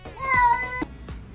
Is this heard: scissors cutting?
no